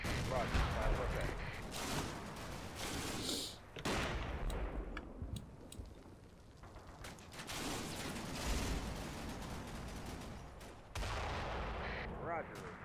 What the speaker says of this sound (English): Yeah, that's a 60mm mortar, I think.